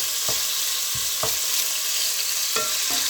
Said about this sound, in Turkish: Ve etlerimin rengi dönene kadar güzelce kavuruyorum etlerimi.